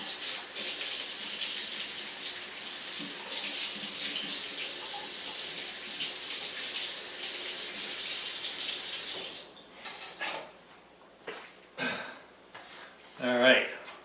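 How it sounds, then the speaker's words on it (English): Running tap water splashes steadily into a kitchen sink as a knife is rinsed while preparing gratin potatoes, a constant close hiss that stops about two-thirds through, followed by brief clatters and a short spoken voice. "I'm just going to give it a quick rinse"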